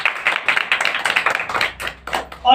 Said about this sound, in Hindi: उनके लिए जोरदार ताली बजाएं और वो खुद भी जोरदार ताली बजाएंगे